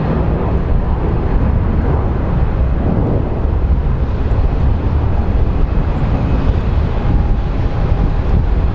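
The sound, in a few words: JetBlue airliner departing Phoenix Sky Harbor airport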